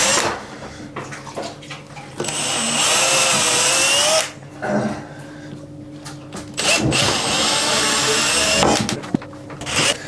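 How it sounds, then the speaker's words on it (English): A power drill whirs loudly in two long bursts through a hard bath surface, with quieter pauses and clunks in between. "then use the same drill, mark all the way through."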